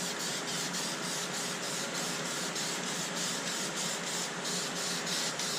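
A spray paint can lays light coats on interior plastic, giving a steady, soft, continuous hiss with faint rhythmic pulsing, close and fairly quiet, with no voices.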